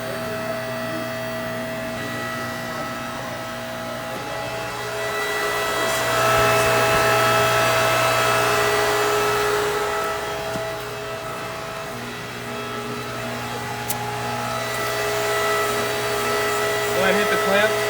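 A COATS HIT 5000 heavy-duty tire changer hums steadily as it runs, swelling into a louder hydraulic whine while the clamps operate, then easing and rising again, close and continuous.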